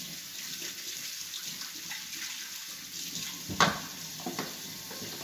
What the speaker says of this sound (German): Dann muss ich mal meine Hände waschen